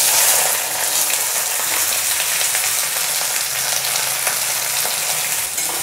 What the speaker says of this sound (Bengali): এবারে আমি কেটে রাখা পেঁয়াজগুলো কড়ার মধ্যে ছেড়ে দেব।